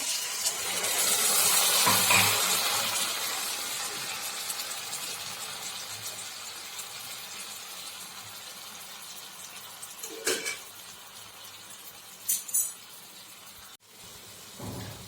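Water gushes and hisses into a hot pot of cooking cluster beans, loud at first and then fading into a soft simmering sizzle, with a few clinks near the end.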